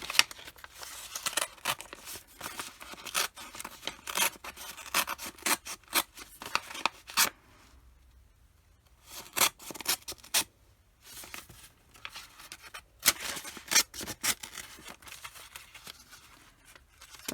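Craft supply packaging ripped open by hand, a close run of sharp tearing and crinkling bursts with short pauses in between, no talk.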